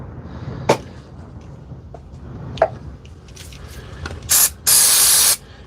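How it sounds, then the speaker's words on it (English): Cleaner is sprayed into a Dewalt nailer in two short bursts of loud hissing spray near the end, after scattered faint clicks and handling knocks. "I'm going to hit it with the cleaner."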